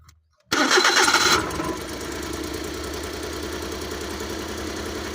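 A Suzuki Transformer motorcycle engine cranks and catches with a loud burst, then settles into a steady, even idle that runs to the end.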